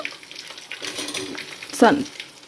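Whole spices, including shahi jeera, sizzle quietly in oil for biryani rice, a soft, close crackle interrupted by a single sharp clatter near the end.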